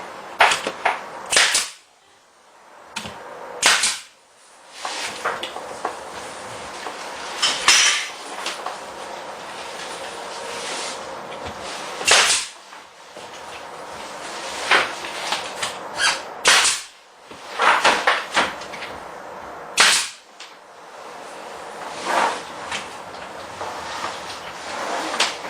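A mattress being tacked down inside a tiny solar house, with a series of sharp, loud staple-gun snaps spaced irregularly between stretches of quiet.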